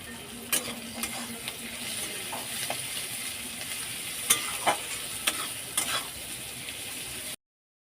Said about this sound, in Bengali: লো টু মিডিয়াম ফ্লেমে 3 মিনিট ভেজে নিয়েছি। লাল লাল করে ভাজা হয়ে গেছে।